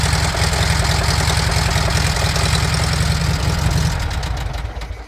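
A Volkswagen T1 bus engine idles with a steady, close, low rhythmic chug and faint knocking that runs loud and even, then fades as it shuts off near the end.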